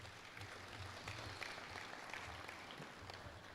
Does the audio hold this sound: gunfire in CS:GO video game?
no